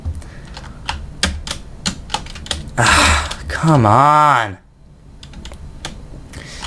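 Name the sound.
mechanical computer keyboard typing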